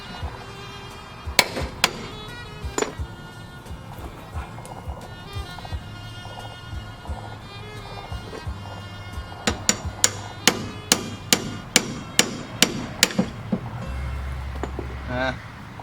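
Hammer striking a car's ball joint to break the stud free during a 5-lug conversion on a CB7 Accord coupe: scattered sharp metallic blows at first, then a fast run of about a dozen evenly spaced hits, all close and loud.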